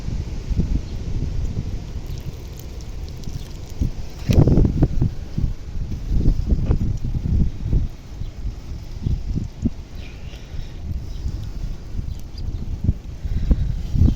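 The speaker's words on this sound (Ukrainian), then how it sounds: "Бо вітер видуває" Gusty wind buffeting the microphone in a vegetable garden, a continuous low rumble that swells in strong bursts around the middle and stays loud throughout, with no talking.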